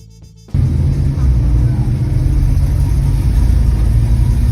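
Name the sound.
1968 Pontiac GTO Ram Air II muscle car engine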